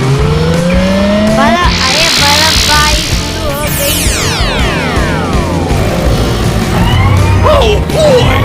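A cartoon car tumbles over and crashes, with loud tire squeals, sweeping whooshes and swooping effects, plus crash noises layered over busy music and voices.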